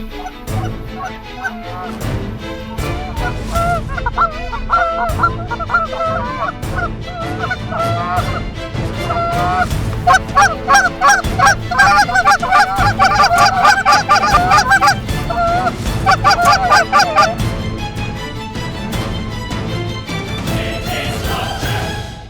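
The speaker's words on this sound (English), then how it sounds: "Oh, more geese right there!" Wild geese honk loudly and almost nonstop during an Ontario waterfowl hunt, a dense, overlapping flock chorus that swells in the middle and stays close throughout.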